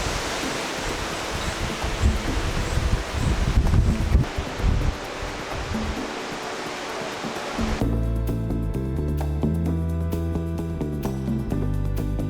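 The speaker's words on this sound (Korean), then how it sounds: "와 바람." Strong wind buffets the microphone on an outdoor trail near a mountain hut, a loud, rough roar with rustling, before the sound cuts abruptly to a steadier, more tonal background.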